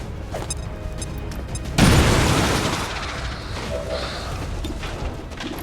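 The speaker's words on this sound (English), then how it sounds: "Throwing grenade!" A grenade blast in the video game XCOM 2 hits suddenly and loud, a single heavy boom that rolls off into a long rumbling decay under ongoing game noise.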